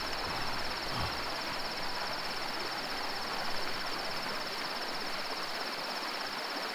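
Cicadas drone in the video game The Last Stand: Aftermath, a steady high buzzing chorus that holds unbroken at low level over a soft ambient background, with no talk.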